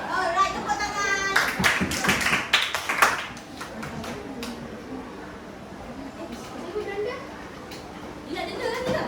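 A short burst of children clapping together in a classroom lesson, sharp overlapping claps for about two seconds amid lively kids' voices, followed by chatter and talk from the teacher.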